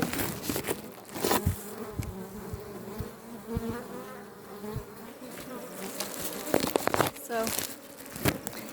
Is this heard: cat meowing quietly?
no